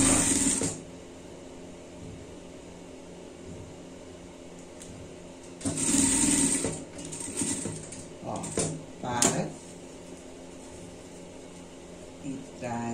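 A sewing machine stitches a pet Christmas collar in short, quiet whirring bursts separated by long pauses, with faint handling noises between them.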